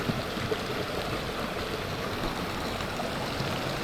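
Water pours continuously from a mushroom-shaped fountain, a steady splashing rush with an even, unbroken texture and no voices.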